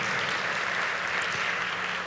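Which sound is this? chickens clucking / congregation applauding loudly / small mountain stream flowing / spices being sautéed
congregation applauding loudly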